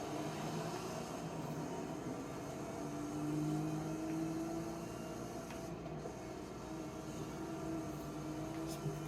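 Green Ford Mustang drag racing in Forza Horizon 5, a steady engine drone with a rising whine that swells and eases slightly, holding at an even level throughout with no talking.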